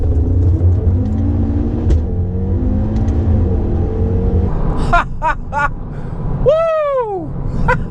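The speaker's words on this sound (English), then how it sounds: "the way that it shifts, it just throws the gear in there" A tuned 2018 Audi RS3 with an APR Stage 1 E85 setup pulls hard with a steady, loud engine drone, then snaps through quick gear changes marked by sharp bursts and a falling whine near the end.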